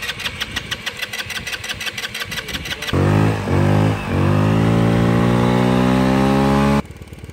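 An engine running on nitromethane starts with a rapid, loud cranking rattle, then catches and roars at a steady high idle, revving and dipping briefly before cutting off abruptly, close and very loud.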